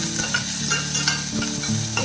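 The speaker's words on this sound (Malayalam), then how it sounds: "ഇത് വഴറ്റിയെടുക്കാം." Curry leaves, two green chillies and chopped ginger sizzle and fry steadily in a hot pan, with a few soft stirring scrapes over the continuous crackle.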